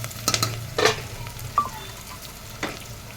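Ground cashew and poppy seed spice paste fries with onions in a pan for a mutton drumstick curry, a soft low sizzle broken by a few sharp stirring clinks and scrapes.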